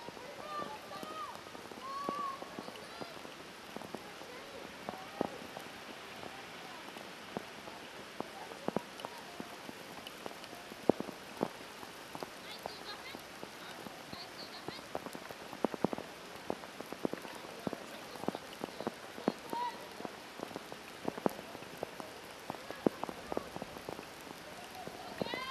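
Rain falling steadily during a women's under-20 football match between Canada and St. Kitts & Nevis: a faint wash of rain with scattered sharp drop patters throughout, under a match commentator's voice.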